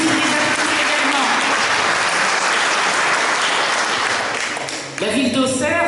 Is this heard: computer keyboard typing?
no